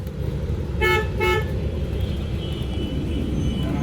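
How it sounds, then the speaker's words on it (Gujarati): Road traffic rumbles steadily nearby as a car horn toots twice in quick succession, loud and close over the continuous engine noise. "ટ્રાફિક જોવા આજે"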